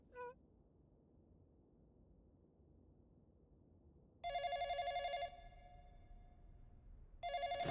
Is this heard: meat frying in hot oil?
no